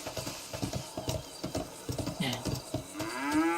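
A cow in the FiveM zombie survival game lets out a loud, drawn-out moo near the end, over repeated hoof clip-clops and game ambience.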